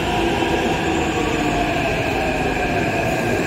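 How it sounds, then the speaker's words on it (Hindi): A Hyderabad metro train pulls into a station, a steady, loud mechanical rumble and hum of rolling wheels and motors that stays close and constant, with no voices. "और यहाँ अपना ट्रेन आ गया है"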